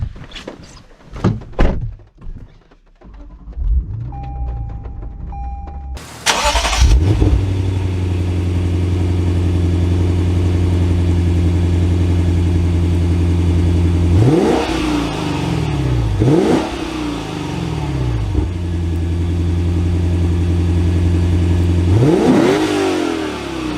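A 2025 Lexus RC F Final Edition closes with a few solid door thunks, then its V8 engine fires with a loud flare and settles into a steady, close idle broken by several sharp revs.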